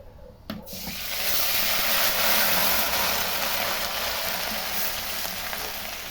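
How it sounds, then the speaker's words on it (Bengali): Whole spices and a hand-ground onion, garlic and ginger paste hitting hot oil in a kadai, a brief clatter followed by a loud, steady hiss of frying that swells and then holds evenly, close by. "কড়াইতে তেল গরম করে নিয়েছি। এখন দিয়ে দিলাম গোটা মশলা।"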